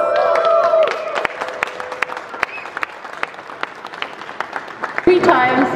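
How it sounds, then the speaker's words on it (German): Audience applause at an aviation event, a crowd clapping steadily with scattered sharp claps, fading slightly before swelling again near the end, with voices speaking over the start and finish. "Bitte einmal einen kräftigen Applaus."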